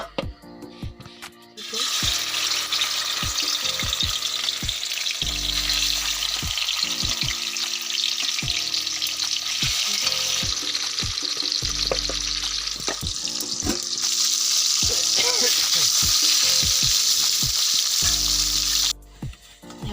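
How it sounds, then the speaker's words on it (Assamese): Sal fish frying in hot oil in a kadai, a loud steady sizzle and crackle that continues throughout with occasional thuds and clatters, no talking. "মাছটো ফ্ৰাই কৰিম"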